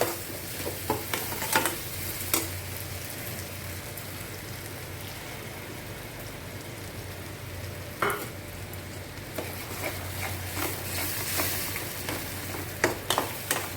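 Tomatoes sautéing and sizzling in a pan for sundaikai kuzhambu, a steady frying hiss broken by occasional stirring clatter and spatula scrapes, close and continuous with no talking.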